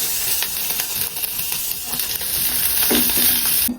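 Fried food reheats in a little hot oil in a pan, a steady close sizzle and hiss with light stirring and scraping throughout.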